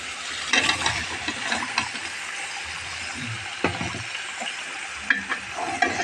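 Eggplant and potato stir-fried with dried fish in a pan, a steady close sizzle broken by sharp utensil scrapes and clinks, louder knocks near the middle and toward the end.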